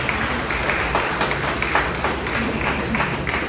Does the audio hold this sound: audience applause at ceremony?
yes